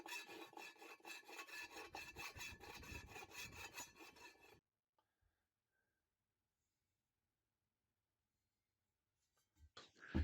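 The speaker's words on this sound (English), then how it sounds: "it is very important that the top edge is filed down smooth" A file rasps along the cut top edge of a metal bottle to smooth it, in a fast, steady run of rhythmic scraping strokes that stops abruptly, followed by near silence and a few faint knocks.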